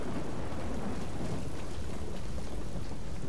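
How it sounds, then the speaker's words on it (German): A thunderstorm in The Bureau: XCOM Declassified brings a constant wash of heavy rain mixed with low rumbling thunder, steady and moderately quiet in the background. "Ich hoffe, ihr könnt den Donner und das Gewitter im Hintergrund hören."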